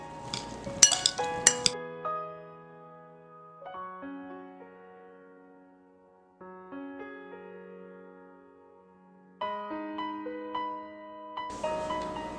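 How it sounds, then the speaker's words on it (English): A spoon clinks against a bowl while pineapple salsa with lime juice is mixed together; a burst of bright clinks at the start and again at the end, with steady tonal music in between. "Mix everything together."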